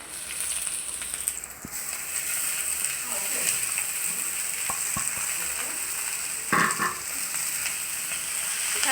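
Leafy greens added to onion and garlic frying in hot oil, a steady crackling sizzle throughout with a few sharp clatters of stirring.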